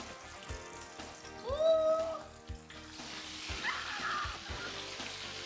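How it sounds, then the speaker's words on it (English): Oysters and soft shell crab sizzle and crackle frying in a hot pan nearby, with scattered utensil clinks and stirring, a couple of brief squeaky tones rising over the frying. "Sizzling."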